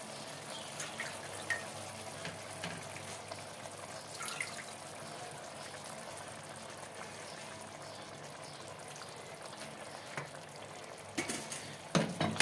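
Chicken livers and gizzards with paprika fry in a pan, a steady close sizzle with occasional stirring clicks and light clatter toward the end.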